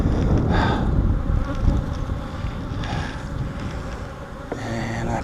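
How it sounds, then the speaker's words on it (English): Bees swarm around an opened beehive during an inspection, buzzing loudly and continuously at close range with a dense, steady drone that barely wavers. "There's a lot of bees in here too."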